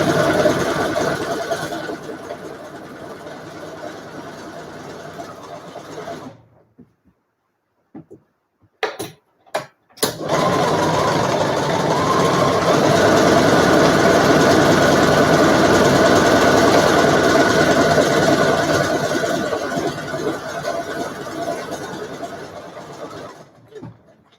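A sewing machine stitches fabric face masks in an art studio: a loud, close, steady mechanical whir in long runs, broken partway by a pause with a few short stitch bursts before the machine runs continuously again.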